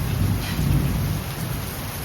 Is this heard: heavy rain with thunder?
yes